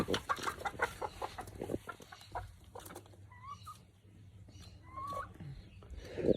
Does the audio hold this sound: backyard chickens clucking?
yes